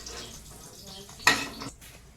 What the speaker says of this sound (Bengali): আলু ভাজাটা উঠিয়ে নিই সব একসঙ্গে আলু ভাজা